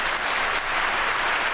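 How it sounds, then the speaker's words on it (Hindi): Audience applause at a formal ceremony in Pakistan, a dense, loud, even wash of many hands clapping that holds steady throughout with no voices. "भरपूर तालियां"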